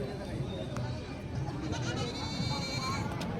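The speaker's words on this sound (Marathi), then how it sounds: "रविवारचा आठवडी शेळी बाजार आहे" Goats bleat at the busy Sunday weekly goat market in Jawala, Aundha Nagnath taluka, Hingoli district, with several close and distant calls over a constant crowd murmur and people talking nearby.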